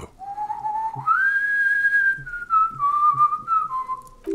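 Whistled tune in the video game Disco Elysium: a single clear, melodic whistle that rises, holds and gently wavers downward over a few seconds, close and alone with faint soft thumps underneath.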